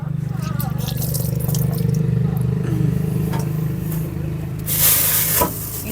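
Water pours strongly from a tap, a steady rushing hiss with a low hum underneath, close and loud, ending in a brief louder splash.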